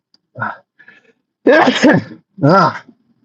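A few short vocal bursts, with one sneeze-like burst and a second one following after a brief pause.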